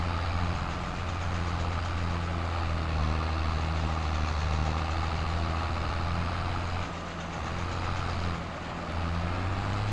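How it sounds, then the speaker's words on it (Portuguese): Simulated tractor engine in Farming Simulator 22 labouring over a small bump while collecting hay, a loud steady low drone with a shifting tone and a brief dip in level, no talking. "o trator sofre na lombinha"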